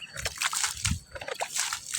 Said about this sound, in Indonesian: Nah ini kita siram dulu biar